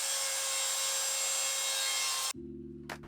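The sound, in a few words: chiseling and sanding plywood corner joints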